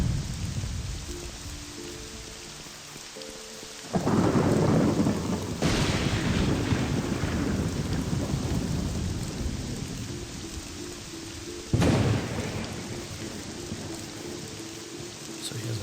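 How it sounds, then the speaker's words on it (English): Steady rain and rolling thunder in the fantasy game Morrowind, a continuous wash of rainfall with loud thunder bursts swelling in around four and twelve seconds, no voices. "it's been raining for like 2 days straight in-game now"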